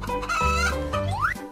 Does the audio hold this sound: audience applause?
no